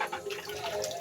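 Water running from a tap while something is rinsed under it, a soft hissing splash near and faint, steady for a moment with a person talking.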